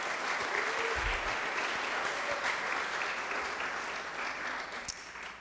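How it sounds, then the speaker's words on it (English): Round of audience applause at a State of the Second District 2015 event, thanking students from Burbank Elementary School; steady, even clapping from a sizeable crowd throughout, easing off slightly near the end. "Let's give them one more round of applause."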